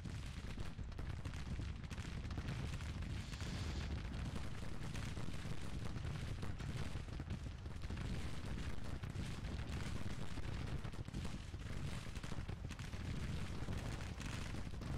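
Cannons boom in a Civil War battle game amid the noise of a large engagement. Dense, continuous rumbling and crackling gunfire fill the whole stretch at a steady, loud level, with no clearly separated single shots.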